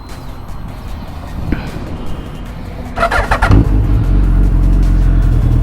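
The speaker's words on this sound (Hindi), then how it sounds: "let's go and let's rev it up" A Suzuki Hayabusa motorcycle engine idles, then bursts into a few sharp revs before settling into a loud, continuous roar up close, with no voices over it.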